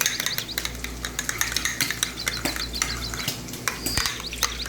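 Cream and yogurt are whisked together in a bowl for a Lahori mutton karahi, with quick, steady clicking strokes of the whisk against the bowl, close and continuous, with no talking.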